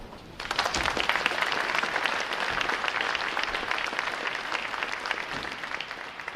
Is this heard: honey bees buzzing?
no